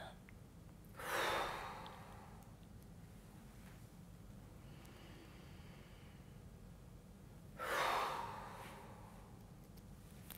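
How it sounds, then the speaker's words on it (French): Two deep breaths taken during an office stretching routine, each a soft airy inhale and exhale heard close up, spaced several seconds apart in a quiet room. "prends une grande inspiration et relâche en soufflant"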